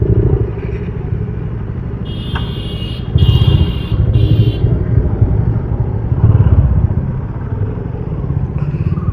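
A group of motorcycles on a Sunday ride along the road to Latratu Dam near Ranchi: loud, continuous rumbling engines with wind buffeting, close to the microphone, and a brief high whine partway through.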